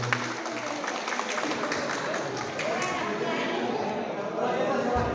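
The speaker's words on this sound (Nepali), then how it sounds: "कृपया जोरदार तालीले सम्मान व्यक्त गरिदिएको छु।" Guests at a wedding reception honour the newlywed couple with sustained clapping, moderately loud and steady, while scattered talk and crowd voices run underneath.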